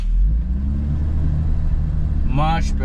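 A Toyota 80 Series Land Cruiser pulls away, its engine giving a loud, steady low rumble close by, with a voice breaking in briefly near the end.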